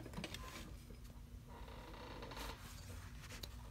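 A Juki DU-1181N industrial sewing machine stitches in a steady, continuous mechanical whir with light rhythmic clatter, close and moderately loud, running unbroken for a few seconds with no talking.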